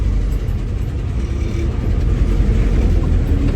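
A 1956 Land Rover Series 1 88-inch drives along, its engine a loud, steady, low rumble with road and cabin noise heard from inside the vehicle.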